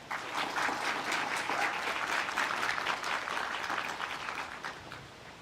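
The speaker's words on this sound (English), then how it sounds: "Please join me in giving Madeline Choate another round of applause." Steady, moderately quiet applause from a crowd at a university graduation celebration, continuous across the clip and easing slightly near the end.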